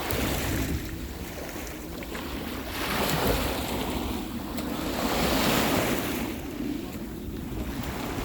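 Sea waves surge and wash in repeated swells at a holiday village shore, with steady wind rushing across the microphone throughout.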